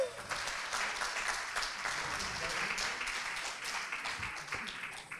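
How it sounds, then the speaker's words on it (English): A panel audience applauds as a panelist is called to the stage, a sustained, fairly soft wash of clapping that carries evenly for several seconds before thinning slightly at the end. "So, if I could have a round of applause for Zaheer Ali, come on down."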